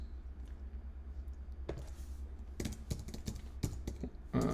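Clicky computer keyboard typing, quiet at first and then a busy run of close keystrokes in uneven bursts, with no talk over it.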